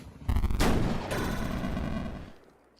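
A tank gun in the Armoured Commander II video game fires an armor-piercing round: one sharp, loud blast that booms and rolls off over about two seconds.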